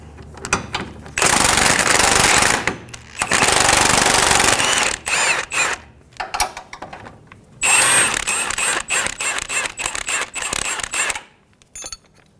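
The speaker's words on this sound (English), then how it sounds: "Using a 17mm socket, remove the lower bolt." Impact wrench with a 17mm socket removing the lower control arm bolt on a 2003-2008 Honda Pilot rear suspension, loud rattling bursts broken by short pauses and ratcheting clicks.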